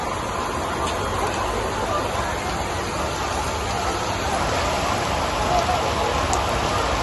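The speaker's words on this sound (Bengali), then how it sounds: "পুরা বৃষ্টি" Heavy rain pours down steadily over an open cattle market, a dense, loud, unbroken hiss of drops striking surfaces throughout.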